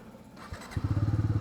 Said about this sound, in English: wow, exhaust, because it has dual cylinder, and here it's a little bit rough